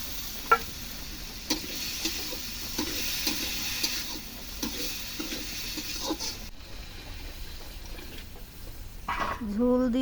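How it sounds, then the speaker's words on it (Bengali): Green chilies and onion frying in a pan give a soft, steady sizzle, with faint scattered stirring taps close by throughout. "কাঁচামরিচ আর পেঁয়াজ দিয়ে দিল। এখন আর একটু ভেজে জল দিয়ে দিবে।"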